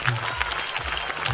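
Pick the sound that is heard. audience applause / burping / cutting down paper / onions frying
audience applause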